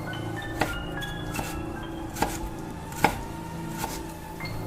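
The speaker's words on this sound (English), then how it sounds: "A chopping sound." Slow, careful chopping of vegetables on a wooden board in a dark kitchen at night: about five evenly spaced knocks, close and distinct over a low steady hum.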